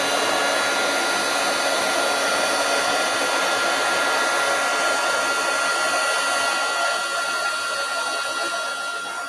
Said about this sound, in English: I'm going to emboss this. And I'm just using my heat tool.